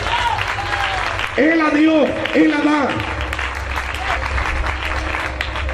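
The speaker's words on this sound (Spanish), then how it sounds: "Le da un aplauso a Dios, hermano." A church congregation applauds in a steady, moderately loud wash of clapping while a preacher speaks over it.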